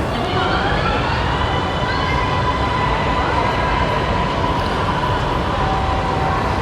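Ambient hum of an underground metro station in Thailand, a steady broadband rumble with faint tonal whines drifting through, continuous and even throughout with no distinct announcements or voices standing out.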